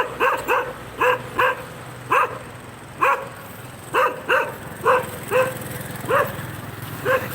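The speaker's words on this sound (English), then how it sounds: "I love the dogs too. So they're growling to me." Street dogs in the Siem Reap temple town bark and yip in a steady series of short, sharp, fairly close calls, about a dozen bursts spaced roughly half a second to a second apart, with no growling evident.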